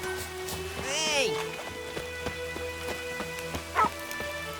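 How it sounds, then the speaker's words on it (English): Rain patters steadily in The Witcher 3: Wild Hunt, a soft, even wash under the game's music and a few brief sound effects. "Let it rain."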